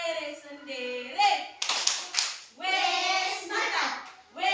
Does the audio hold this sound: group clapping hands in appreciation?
yes